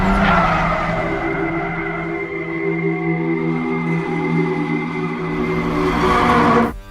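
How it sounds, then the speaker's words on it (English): Cars drifting down mountain roads in Tokyo Drift, sustained high-pitched tire squeal layered over revving engines, loud and continuous with a wavering whine that swells near the end. "Watching these hot rods drift their way down mountain roads is pretty impressive"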